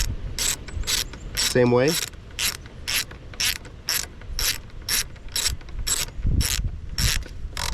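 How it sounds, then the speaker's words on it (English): Socket ratchet clicking in regular bursts as it tightens bolts on a 1989 Craftsman mower, close and fairly loud, with a short remark spoken partway through. "I'm tightening this side right to about snug"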